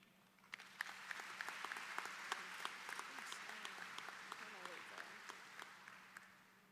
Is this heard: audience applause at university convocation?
yes